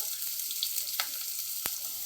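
Chopped vegetables stir-frying with a pinch of salt in a hot pan for chow mein, a steady close hiss of sizzling broken by a few sharp scrapes and clacks of the spatula.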